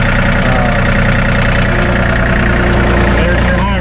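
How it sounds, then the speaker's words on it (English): A 2019 John Deere 3025E compact tractor with hydrostatic transmission idles up close, its diesel engine producing a loud, steady, unbroken rumble for the whole stretch. "This is a synchronized hydrostat because you don't have a clutch pedal."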